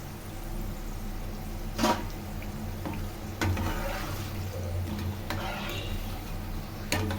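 Bitter gourd pieces crisping in a pan of hot oil, a steady near sizzle with occasional stirring clicks and scrapes, no talk over it.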